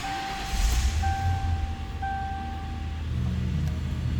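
A 1997 Ford Thunderbird LX coupe starts up with a brief rumbling crank that settles into a smooth, steady idle heard from close by, with several beeping chimes overlapping the engine.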